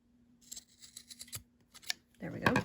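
Scissors snip through fabric while sewing a reversible gift bag, several quick crisp cuts in an irregular rhythm close by, with brief voice sounds mixed in.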